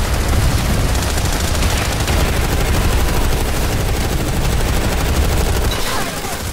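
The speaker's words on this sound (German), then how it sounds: "Oh, ein Sniper hat uns erwischt." Loud, dense gunfire from the video game Planetside 2, continuous rapid shots and bursts filling the whole stretch with no pause.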